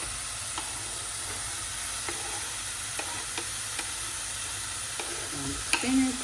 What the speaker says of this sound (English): I'm gonna add the tomatoes.